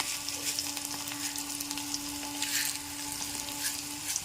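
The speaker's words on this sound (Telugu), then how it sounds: "ఇప్పుడు మెంతులు వేస్తున్నాను తల్లి." Fenugreek seeds crackle and sizzle in hot oil while kanda avakaya pachadi is being made, a steady close hiss with scattered small pops and a faint tonal hum underneath, and no talking.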